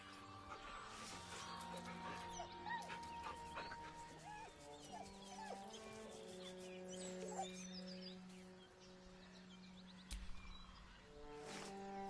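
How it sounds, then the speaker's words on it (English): Dog whimpering nervously in Baldur's Gate 3, a series of soft whines and faint yips with a fitting game ambience of tonal music and a dim background sound, no talking. "The dog whimpers nervously"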